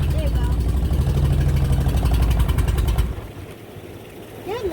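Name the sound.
boat engine running unevenly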